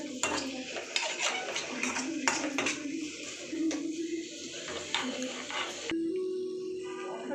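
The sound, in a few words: ginger and garlic frying in a pan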